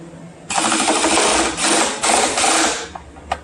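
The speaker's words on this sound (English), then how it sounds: "So we're going to pull these screws down with the star pattern." Screws are driven down in a star pattern to seat an EVL 10 subwoofer replacing a Skar Audio SVR 10 in a Jeep, heard as a few loud, close whirring bursts from a power driver with short gaps between them.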